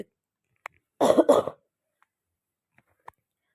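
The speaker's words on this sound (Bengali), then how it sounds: "কথা বলতে বলতে গলায় মানে কাশি হচ্ছে খুব" A single short throaty cough burst, close and fairly loud, surrounded by near silence with a few faint clicks.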